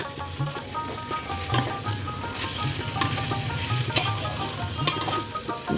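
Fried Gobindobhog rice with potato and pointed gourd sizzles in a hot pan while being stirred and mixed, a constant crackling fry punctuated by scraping strokes of the spatula every second or so.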